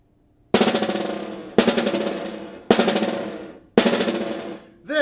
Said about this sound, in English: Try playing alternating buzz strokes and make them last as long as possible.